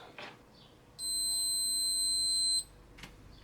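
A multimeter set to continuity gives one steady high-pitched beep of about a second and a half while traces on an eBay junker Commodore Amiga 500 Plus board are probed, with soft handling clicks before and after.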